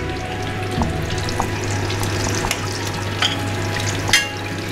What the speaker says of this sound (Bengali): কাঁচা লঙ্কা আর কালো জিরে ফোড়নে যাবে, ঠিক আছে, আমি পুরোটাই দিয়ে দিলাম